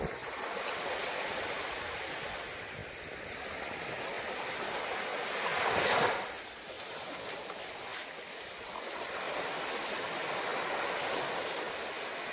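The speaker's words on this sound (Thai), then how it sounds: "โอ้คลื่นดีมากเลย" Sea waves wash onto a beach in a steady, broad rush of surf, with one louder breaking swell swelling up midway before the sound settles back to a constant wash; no talking.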